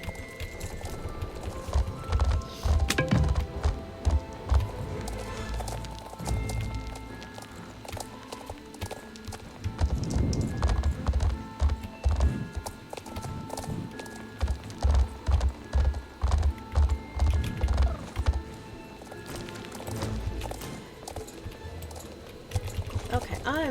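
Steady rhythmic video game horse hoof clip-clops at a walking pace, moderately loud, with voices talking over them and brief pauses in the stepping.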